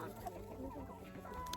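Hens clucking in low, overlapping bursts over a steady background murmur, fairly close and continuous throughout.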